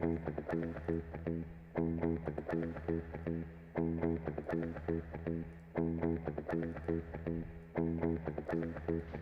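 An electronic music arrangement with reverb on it plays a repeating pattern of punchy, pitched synth stabs in a steady rhythm, each hit trailing into a short wash of reverb, moderately quiet.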